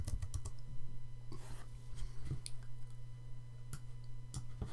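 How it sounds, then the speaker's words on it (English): Quiet typing on a computer keyboard, irregular clusters of light key clicks with brief pauses, close and soft, no talk. "I can type in my text."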